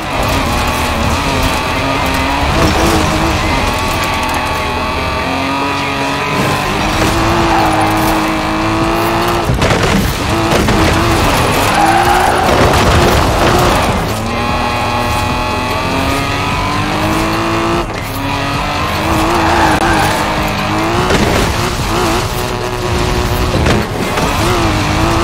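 Car drifting in Forza Horizon 4, loud engine revving and shifting with sustained tire squeal throughout, rising and falling in pitch without speech.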